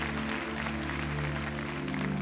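A church congregation applauds at a sermon, a dense, continuous wash of clapping that stays steady over a sustained tonal hum beneath it.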